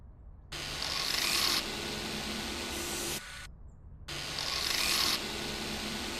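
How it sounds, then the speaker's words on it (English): An oscillating sander works on a car in a dealership simulator game, giving two bursts of loud, rough, hissing abrasion separated by short silent gaps. "the sanding with the oscillator."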